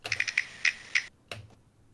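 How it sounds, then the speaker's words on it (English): A quick series of sharp, bright clicks in uneven bursts, then a pause and a few more clicks, close and fairly loud with nothing else heard. "Castanets, those are those things that you see in"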